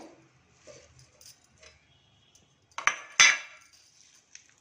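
Mint and coriander leaves dropped into a mixer jar, with a couple of sharp metallic clinks and clatters of the jar and lid after soft rustling, close and fairly quiet otherwise.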